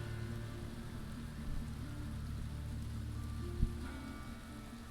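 Continuous rain falls with an even hiss and a low steady rumble, with a faint thud near the end and no voices.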